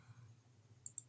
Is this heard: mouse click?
yes